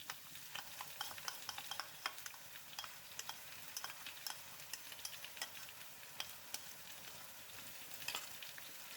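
Garlic and ginger paste frying with lightly browned onions for a fish curry, a steady crackling sizzle with repeated stirring scrapes throughout, close by and with no voices.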